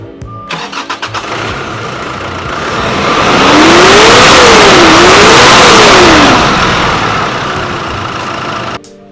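A Nissan Pathfinder that runs well starts up and revs, its engine climbing to a loud, sustained roar with wavering pitch before settling back toward idle, heard close and without talk.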